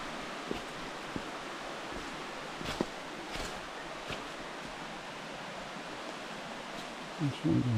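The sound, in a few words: creek flowing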